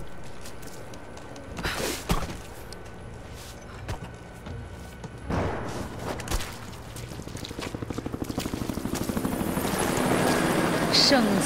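A Trinity helicopter in Rise of the Tomb Raider, its rotor thump building from a distance into a loud, rapid chop, with scattered impacts and game sounds earlier on and voices talking over it.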